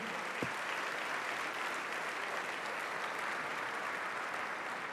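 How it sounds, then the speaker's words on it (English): An athletics gala audience applauds a pole vault world record holder, a dense, even wash of clapping that stays steady and full throughout without talk. "Ladies and gentlemen, a round of applause for the man who set that record in Donetsk this year, Renault Lavani."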